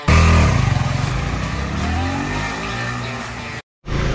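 A KTM Duke 250 motorcycle rides with a loud, close engine drone that surges at first and then holds a steady roar, cutting out briefly before resuming.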